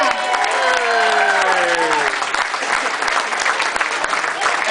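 An audience at a charity event gives a round of applause: loud, dense, sustained clapping from a full crowd, with tonal voices or music sweeping through it.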